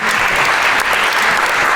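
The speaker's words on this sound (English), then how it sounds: "one more round of applause" Audience at a panel discussion on Marxism applauds in steady, dense clapping that fills the room loudly throughout, with no voices over it.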